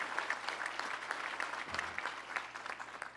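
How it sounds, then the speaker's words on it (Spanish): Audience applause for police officers at a promotion and decoration ceremony, brisk crowded clapping with sharp individual claps standing out, continuous and fairly distant, without speech. "vamos a darles un aplauso muy fuerte a nuestras compañeras y compañeros de la Policía"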